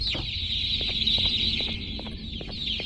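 A chicken-like bird monster in the Garten of Banban video game clucks in a rapid series of short, close clucks over a steady high tone, like a hen fussing, with no talking.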